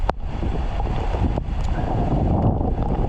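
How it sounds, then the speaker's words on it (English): Strong hurricane wind gusts of 30 to 40 mph buffet the microphone in heavy, roaring bursts during Hurricane Elsa storm surge, with water splashing faintly beneath the rushing noise while paddleboarding. "We're getting probably 30 to 40 mile per hour wind gusts right now too."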